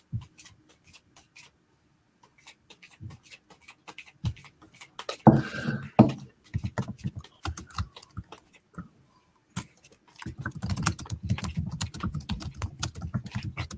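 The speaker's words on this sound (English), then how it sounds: "I'm just going to shuffle till she tells me to stop." Tarot cards are shuffled with soft, quick riffling and tapping, intermittent at first and then more continuous, close by and fairly quiet.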